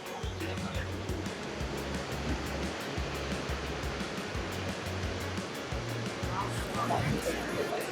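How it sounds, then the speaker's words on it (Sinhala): Water pours down in the Orrido di Bellano gorge by Lake Como, a steady, dense rushing roar that fills the space without letup, with faint voices beneath it. "මේ සැරට වැටෙන වතුර පාරක් තියෙන්නේ."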